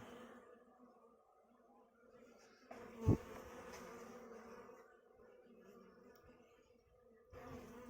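Honeybees buzz at a queen mating box in short, close bursts of droning hum separated by near silence, with a louder swell in the middle and another at the end.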